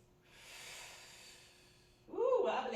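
Slow breathing during a foam roller core exercise class: a soft, drawn-out exhale hiss fading away, then a sharper, louder breath or snort at the end, close and quiet.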